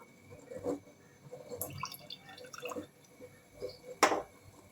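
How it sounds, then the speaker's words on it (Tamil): Lemon juice poured into milk to make homemade paneer, sparse soft drips and splashes with a few small liquid plops, one clearer splash near the end, quiet and close. "இப்போ இதில் வந்து எலுமிச்சை பழத்தை வந்து ஊற்றிக்கலாம்"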